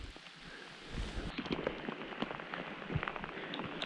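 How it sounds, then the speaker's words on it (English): Steady rain falls outdoors in the Colorado backcountry during a September storm, making a soft, dense patter that thickens partway through, with scattered sharper drops and no voices. "It's raining, which is awesome."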